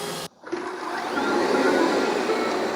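Steady whirring motor drone with a brushing hiss, fairly loud and close, after a brief drop near the start; a Shark AI Ultra robot vacuum running over a hardwood floor.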